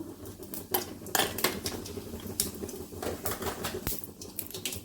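Mustard seeds, urad dal and cumin crackle in hot oil for broad bean sambar, with irregular sharp pops and taps spread across the whole stretch, moderately close, with no talk.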